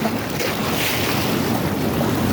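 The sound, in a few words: growing sea waves at high tide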